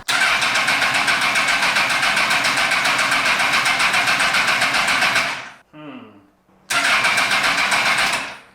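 A homemade Formula 1 car engine, rear end raised off the ground, roars loudly and steadily, cuts out briefly with a sputtering whine, then fires up again at full volume.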